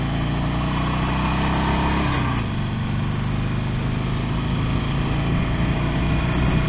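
A Harley-Davidson Sportster Forty-Eight motorcycle engine pulls steadily in first gear with a continuous loud rumble. The pitch shifts partway through as the engine note changes under load, with no talking.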